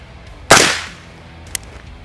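A single sharp firearm gunshot fired while zeroing at 15 meters, loud and close with a brief decaying tail, followed a second later by a faint distant crack.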